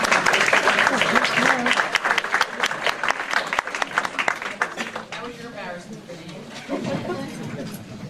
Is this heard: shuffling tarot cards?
no